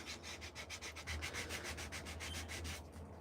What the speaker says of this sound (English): The more you sand it, the more the grain comes out.